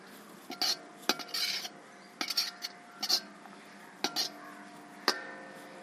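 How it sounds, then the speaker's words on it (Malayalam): Metal spoon scraping and clinking against a pan while fried chicken is mixed into masala and vegetables for Chennai-style fried rice, in irregular bursts of knocks and scrapes over a quiet background. "നമ്മുടെ ചിക്കൻ നമുക്ക് ഇതിനകത്തോട്ട് ഇട്ട് കൊടുക്കാം നന്നായിട്ടൊന്ന് മിക്സ് ചെയ്ത് കൊടുക്കുക"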